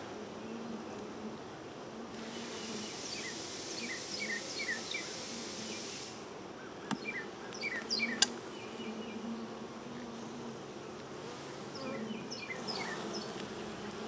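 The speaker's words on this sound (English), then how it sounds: "Boy, that's a lot of bees." Honey bees in a hive box, a dense steady buzzing drone that holds close and even throughout, with occasional faint ticks and taps, no talking.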